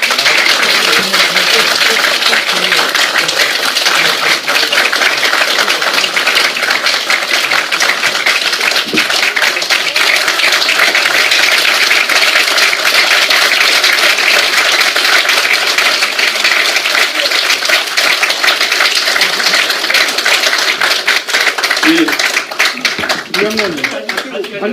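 Sustained applause from party lawmakers at a People Power Party caucus meeting for a presidential candidate, a dense, steady roar of clapping filling the room throughout, with a voice emerging briefly near the end.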